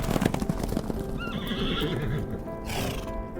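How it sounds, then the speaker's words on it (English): Wild horses on a dry, dusty desert range near Osoyoos: a loud, clear neigh rises and wavers, with hooves clip-clopping and other horse noises around it. "Wild horses wandering a dry and dusty range known as the Osoyoos Desert."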